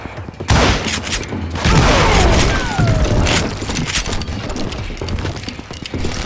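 Gunfire from the Western shooter Call of Juarez Gunslinger, a loud dense burst of shots with swooping whistles, then continuing scattered shots and bangs through the rest, with hoofbeat-like clatter mixed in.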